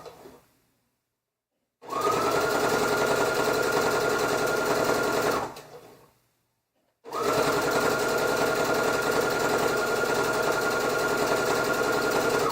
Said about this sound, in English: I'm sewing very close to the edge of my hem